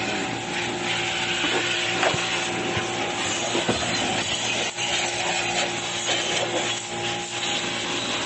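A homemade air blower whirs in a steady motorized drone at close range, with a constant hum and faint mechanical rattles throughout.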